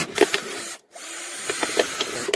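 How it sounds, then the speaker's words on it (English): A power drill bores holes into a plastic minnow trap in short bursts, with brief whirring spins separated by a quiet gap, fairly close and moderately loud. "take the drill, and we're going to drill holes all around this"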